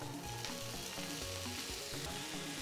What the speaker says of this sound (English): I'll add the frozen vegetables now.